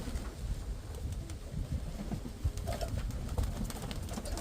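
Soft cooing of Mykolaiv pigeons repeats at a distance over steady outdoor background noise, low and muffled, with no talking.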